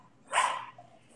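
A small dog gives a single sharp, close yap indoors, short and fairly loud against a quiet room.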